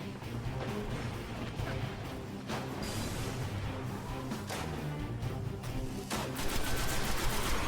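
Video game gunfire from Destiny, including a sniper rifle, rattling in dense, continuous bursts with booming shots layered over a loud battle din, no talk.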